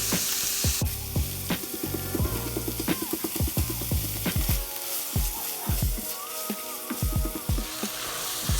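Ground beef for stovetop chili fries loudly in a pan, a dense steady sizzle with a spatula repeatedly scraping and breaking up the meat, no talking.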